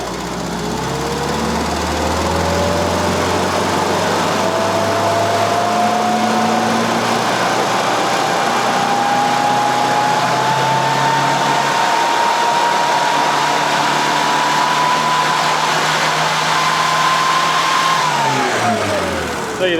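An engine being tuned on the road climbs steadily through the rev range up to about 5,000 RPM, its rising drone loud and sustained, then drops off sharply at the end.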